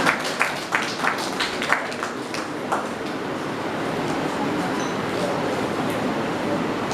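Parents and students applaud at a school's Rabindra Jayanti and annual award ceremony; sharp separate claps first, then growing into a steady, moderately quiet wash of applause filling the hall.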